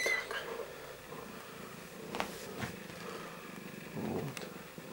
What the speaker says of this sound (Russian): Вот она замурлыкала.